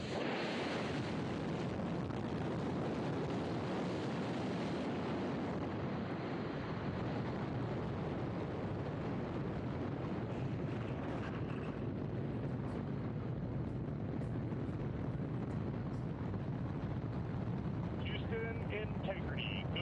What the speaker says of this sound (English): GLS is go for core stage engine start.